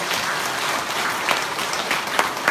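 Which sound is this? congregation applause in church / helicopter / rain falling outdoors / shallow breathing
congregation applause in church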